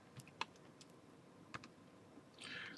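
A few sparse, light key clicks from a calculator keypad as numbers are entered, spaced irregularly against quiet background hiss, with a brief brighter rustle near the end.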